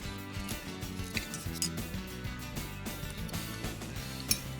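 A knife slicing through crispy, olive-oil-rich phyllo spanakopita, giving a series of close, crackly crunches and light clicks spread across a few seconds.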